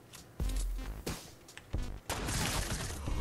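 Gunfire in a Fortnite match: several loud, sharp shots ring out one after another, each with a short decay, and a longer burst of firing and impact noise runs to the end.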